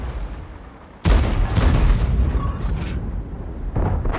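M44 self-propelled artillery firing in World of Tanks, a sudden loud boom after a quiet second, rolling into a long rumbling decay, with another blast beginning near the end.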